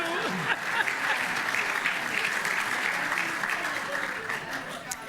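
An audience at a school district recognition event gives a round of applause for Snowball the dog, a full, sustained burst of clapping with a few voices audible underneath.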